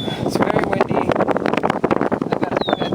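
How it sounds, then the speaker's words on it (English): Strong wind buffeting a small boat out on the water, loud gusty roaring and flapping in irregular bursts close to the microphone. "it's very windy."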